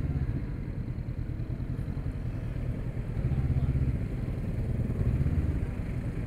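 A Honda CBR500R motorcycle is being ridden, its engine giving a steady, low rumbling drone with a slight rise partway through, heard from close by.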